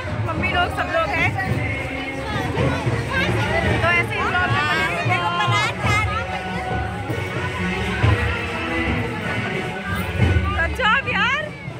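A busy crowd murmurs and chatters at a village fair in India, a dense steady babble of many voices close around, with a person talking nearby over it.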